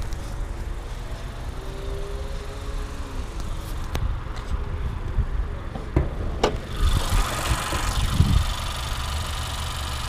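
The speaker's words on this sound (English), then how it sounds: "Four-cylinder iVTEC engine." A Honda Accord four-cylinder i-VTEC car engine idles quietly and steadily nearby, with a few faint clicks and a brief rustle near the end.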